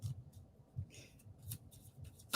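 Tarot cards shuffled by hand in a series of soft, irregular papery riffles and taps, with a sharper snap near the end, quiet and close.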